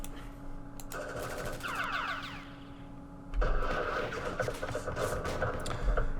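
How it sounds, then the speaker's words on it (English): Automatic machine-gun fire rattles from a bunker in the Campaign Series Vietnam video game, with bursts of rapid clattering over a steady hum and a louder, denser burst midway through. "let's do some firing with our machine guns first"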